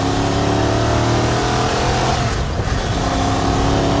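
A Lola T70 replica race car's engine drones loudly and continuously with strong harmonic tones, heard up close from inside the car as it pulls hard.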